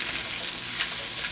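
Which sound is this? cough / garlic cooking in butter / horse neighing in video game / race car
garlic cooking in butter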